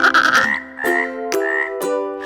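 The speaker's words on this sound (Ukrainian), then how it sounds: "Жаба ква." A frog croaks in a children's animal-voices song, loud and close, with a burst of sung or musical sound at the start followed by three distinct croaks spaced roughly half a second apart.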